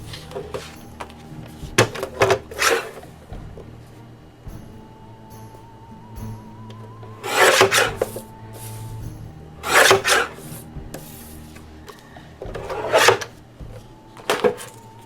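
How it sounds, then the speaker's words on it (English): Paper being trimmed for a small envelope flip book, with several short crisp cutting and rasping strokes spaced out among quieter handling rustles, close by. "I'll probably trim it down a little bit."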